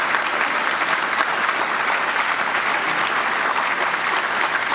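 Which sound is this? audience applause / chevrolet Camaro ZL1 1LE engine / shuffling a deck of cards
audience applause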